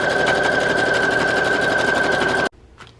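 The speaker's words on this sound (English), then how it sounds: "let's add sewing detail to this. I'm just gonna sew all the way around." A sewing machine stitches steadily around a paper envelope in a junk journal folio, a loud, close, continuous mechanical whir that stops abruptly near the end, leaving faint room noise.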